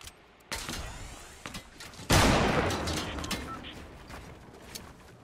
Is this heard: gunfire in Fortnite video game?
yes